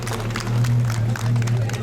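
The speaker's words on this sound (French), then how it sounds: "Sous vos applaudissements, s'il vous plaît" A crowd at the 2023 Dourdan vintage car festival applauds as a driver takes the wheel of an Alfa Romeo Giulia Junior GTA replica coupe. The clapping forms a dense, continuous patter over a low background hum.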